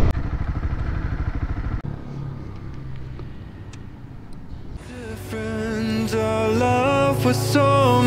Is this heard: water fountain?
no